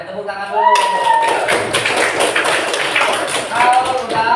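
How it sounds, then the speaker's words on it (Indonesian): Children in an informatics classroom break into a loud burst of clapping for about three seconds, with a voice heard just before it starts and again as it dies down. "Tepuk tangan dulu."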